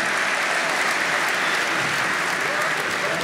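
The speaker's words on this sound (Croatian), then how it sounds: "daj aplauz za Suzu" A stand-up comedy audience claps in sustained, dense applause that fills the room evenly and loudly from start to finish.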